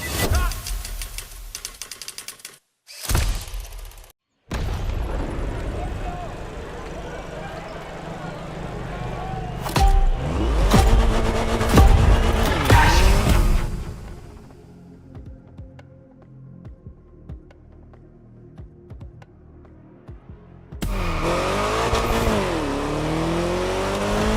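In the racing game The Crew Motorfest, a car's engine hums steadily and revs up, loud and continuous through most of the stretch. It breaks off briefly, drops away to a quieter gap, then returns strongly near the end.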